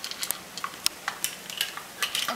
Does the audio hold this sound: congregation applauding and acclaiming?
no